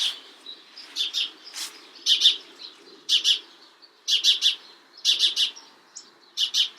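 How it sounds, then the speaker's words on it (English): Birds chirping in repeated short bursts of high, quick tweets, with brief pauses between, fairly close and clear, no talking. "the birds stopped making all that noise"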